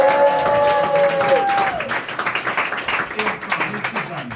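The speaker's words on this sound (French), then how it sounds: "je vous propose de faire un tonnerre d'applaudissements pour Jen et Antoine" Theatre audience at a show by the Théâtre de l'écho applauds the technical crew, a full room of clapping that starts loud under a host's speech and breaks into uneven patters as it fades.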